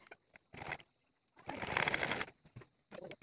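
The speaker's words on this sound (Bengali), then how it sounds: "এখন জাস্ট আমাকে এভাবে প্রথমে আমাদের এই কিনার দিয়ে সেলাই দিতে হবে" A sewing machine stitches along the folded edge of fabric for a salwar pant: two bursts of rapid mechanical whirring, the second longer, separated by quiet pauses with small clicks.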